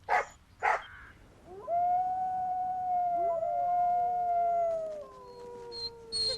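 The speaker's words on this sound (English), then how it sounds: "The howls and yelps of wild dogs can be heard for several miles." Wild dogs give a couple of sharp yelps, then long wavering howls rise and overlap, several voices sliding in pitch at moderate distance with a few higher yips at the end.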